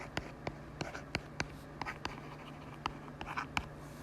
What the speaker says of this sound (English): I just write it down